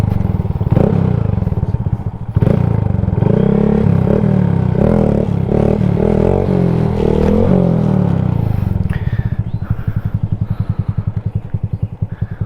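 Motorcycle engine during a wheelie attempt, loud and close, with a rough idle, a rise in revs that holds for several seconds, then a dip and a steady throbbing pulse toward the end, with some clattering.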